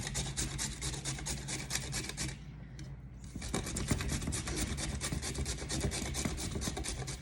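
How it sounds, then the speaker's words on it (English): Carrots for a carrot cake grated on a hand grater, a close, steady run of rhythmic rasping strokes that pauses for about a second, then resumes just as brisk and even. "basically you just take a grater and you put it down and just start grating"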